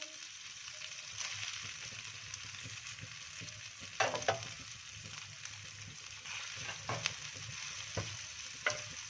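Onions frying with masala spices on a small tawa for street-style tawa kaleji, a steady close sizzle with occasional stirring scrapes and clatters, no voices.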